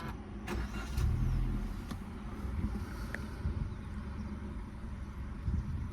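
A 2024 Suzuki Ignis Alpha with a manual gearbox starts with a short low burst of engine noise, then settles into a quiet, steady idle with a few faint clicks.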